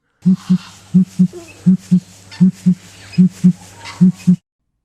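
A Victoria crowned pigeon gives a deep, resonant hooting call that repeats in paired low pulses, about a dozen booming notes in steady rhythm, close and clear against silence.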